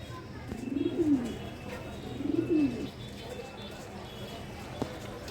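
Two rounds of low pigeon cooing from a pair of female Maltese pigeons at a pigeon farm, each a short rolling coo, close by against a steady background hum with a faint click near the end.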